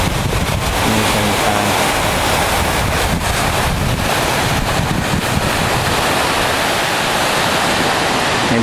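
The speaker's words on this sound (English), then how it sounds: "Beach area here." Waves on a lake beach at a waterfront home near Rochester, NY, a steady loud wash of surf mixed with heavy wind rumble across the microphone, continuous with no talking.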